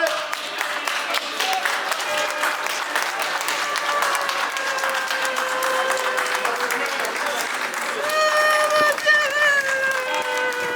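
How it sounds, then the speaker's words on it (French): Mourners at a burial in Corbeil-Essonnes applaud, a crowd's sustained clapping mixed with voices and a melodic tone rising above it, growing a little louder toward the end. "je souhaiterais qu'on puisse applaudir M. Pierre Moutouari"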